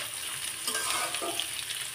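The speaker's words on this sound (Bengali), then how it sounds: "একটু ভাজি ভাজি করে নেবেন পেঁয়াজটা।" Onions fry in oil with black cumin, making a steady close sizzle with a few stirring scrapes in the pan, moderately loud and with no voices.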